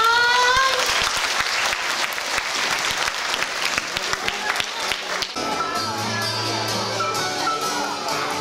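An audience at a Spejbl and Hurvínek puppet show celebrating a children's centre's anniversary claps loudly and densely for about five seconds, then the applause breaks off as quieter sound takes over.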